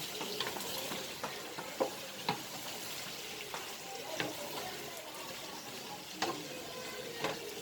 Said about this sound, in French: Je vais tout renverser dans la marmite. Et faire un très bon mélange.